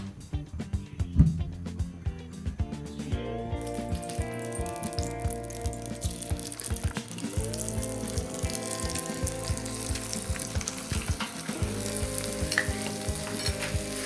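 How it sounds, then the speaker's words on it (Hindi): Chicken for a chicken masala cooks in a pan with a loud, close, crackling sizzle that continues throughout, broken by rattling utensil scrapes and clanks. "जब तक चिकन पक रहा है"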